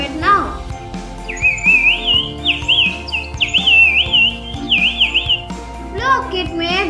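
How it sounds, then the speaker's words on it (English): A toy bird whistle blown by a child gives a warbling, trilling chirp that rises and wavers for a few seconds in the middle, set against background music with short bursts of voices around it. "made a birdie sound"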